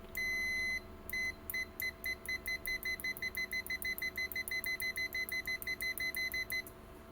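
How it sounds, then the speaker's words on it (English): Short electronic beeps from an ANENG MH15 megohmmeter's continuity test repeat in a rapid, steady rhythm after a couple of longer tones, clear and close, with no voices. "Let's hear continuity test."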